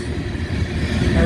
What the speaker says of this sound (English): sorry about the wind, folks.